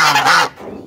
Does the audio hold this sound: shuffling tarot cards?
no